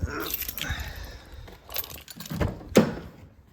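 Car keys for a Toyota E10 Corolla jangle close by in a few short metallic rattles and clicks, ending with a sharper clink near the end, with no talk.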